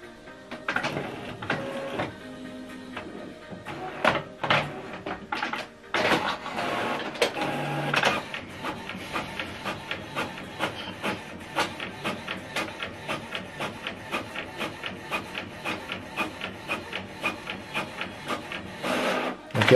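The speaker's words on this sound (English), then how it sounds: "So right now it's gonna be printing this black." An HP Envy Photo 6220 all-in-one printer makes a black copy: some irregular clunks and whirs at first, then a long run of fast, evenly ticking mechanical strokes as the print head shuttles, close and fairly loud.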